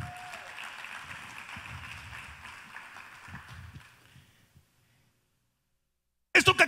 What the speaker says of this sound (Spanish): Ahora dale un fuerte aplauso al Rey.